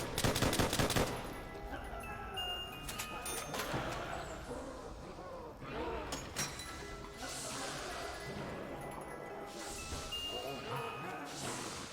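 Rapid repeated gunfire and heavy impacts fill the Call of Duty World at War Zombies game, with bursts of automatic fire and crashes running steadily under the game's other sounds.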